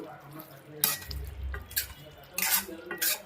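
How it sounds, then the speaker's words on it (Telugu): Vegetable curry stirred in a pot with a spoon, giving a few bursts of scraping and clinking against the metal, with a low thick bubbling in between, close and moderately loud. "ఒకసారి కలుపుదామండి మొత్తం"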